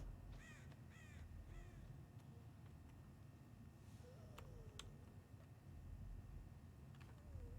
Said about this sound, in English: That's a crow I scared off.